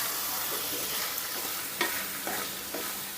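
Cucumber pieces and slit green chillies stirred in a frying pan, a steady soft sizzle with a few brief spatula scrapes near the end, close and fairly quiet with no talk.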